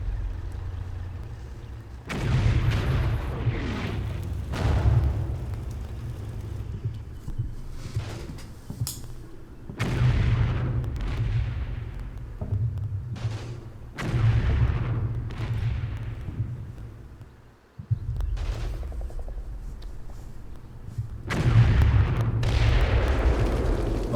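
An artillery barrage pounds the battlefield in the video game Combat Mission Red Thunder, with repeated heavy booms and rumbling blasts rolling over about 24 seconds of continuous low battle noise.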